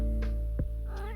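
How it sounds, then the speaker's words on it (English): An elderly cat meows once, a short, fairly clear call rising and falling near the microphone. A steady electrical hum and a brief click sit underneath. "my elderly cat has something to say"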